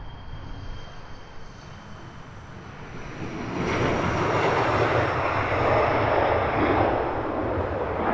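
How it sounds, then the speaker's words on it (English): Loganair ERJ regional jet at Heathrow Airport, its engine roar building steadily from a moderate distant rumble to a loud, broad sustained whine as the aircraft moves closer. "Very much like a nice sized private jet."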